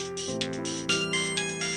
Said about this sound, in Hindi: तभी उसका फोन बज पड़ा।